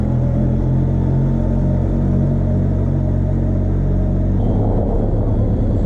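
A Benelli TRK 502 X motorcycle engine drones low and loud in a steady rumble while riding over cobblestone streets, with a rougher, bumpier texture coming in toward the end.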